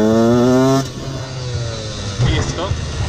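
Husqvarna WRE 125 two-stroke motorcycle engine revving hard during a wheelie, a loud close high-pitched wail that drops off abruptly, then quieter idling and a second brief rev burst.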